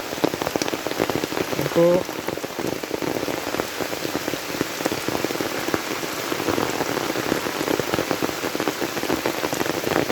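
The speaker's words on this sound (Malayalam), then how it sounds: "ഇപ്രാവശ്യം കുറച്ച് നേരത്തെ മഴ തുടങ്ങിയിട്ടുണ്ട്" Heavy rain falls steadily and close by, a dense continuous hiss of drops on surfaces, with a brief spoken word early on and a faint background hum throughout.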